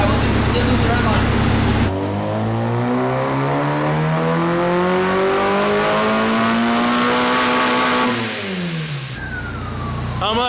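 A supercharged go-kart engine on a dyno revs up steadily toward its red line, the pitch climbing for several seconds before cutting off sharply, loud and close with voices briefly nearby.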